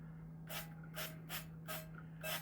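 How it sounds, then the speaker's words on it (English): Oil is sprayed onto an air fryer pan for baking biscuits in five short, evenly spaced hissing bursts, close and fairly quiet over a low steady hum. "I'm going to spray it"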